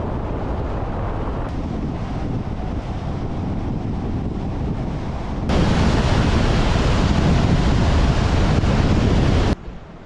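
Creek water rushing steadily outdoors near Castner Glacier, Alaska, a broad continuous roar that swells louder midway and then drops off abruptly near the end, with no talk.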